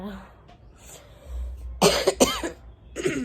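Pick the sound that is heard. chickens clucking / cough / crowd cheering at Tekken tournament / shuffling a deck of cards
cough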